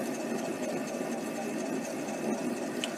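A mini lathe turning an off-center workpiece gives a steady close motor whir with a faint rhythmic pulsing throughout.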